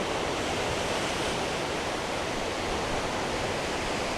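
Water rushes steadily among rocks in a continuous even wash, close and unbroken, with no voices or other sounds.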